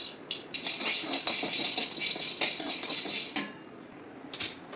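Peanuts roasting in a pan rattle and clink with bright, uneven scraping bursts as they are stirred and tossed against the metal, pausing briefly between strokes.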